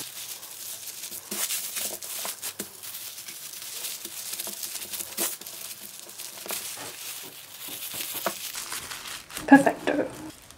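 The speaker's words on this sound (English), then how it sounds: "how to fold up a plastic bag in a seriously efficient manner" Plastic crinkles and rustles in bursts as a bag is handled and folded, soft close crackling with brief pauses and a louder flurry near the end.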